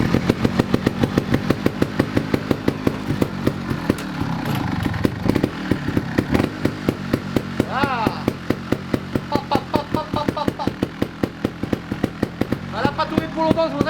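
An old motorcycle with a flooded engine fires up on the choke and keeps running with a loud, uneven single-cylinder chugging that revs up and settles back, while someone speaks over it now and then.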